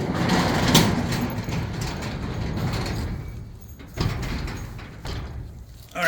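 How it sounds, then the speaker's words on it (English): A door slid shut by hand in a home: rumbling, scraping movement and a muffled thud partway through, then further rattling at close range. "Let me close the door."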